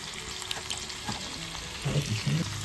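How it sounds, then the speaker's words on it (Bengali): Boal fish pieces with potatoes frying in a pan, a steady soft sizzle with clinks and stirring scrapes that grow louder toward the end; no talking. "তবে এখন মা রান্না করছে বোয়াল মাছ, আলু দিয়ে রান্না করবে"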